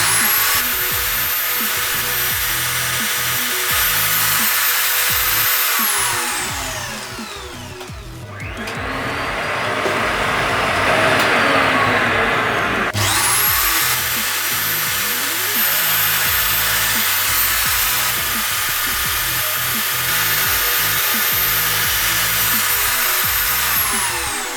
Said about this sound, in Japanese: 次はまたこちらに穴を開けていきたいと思います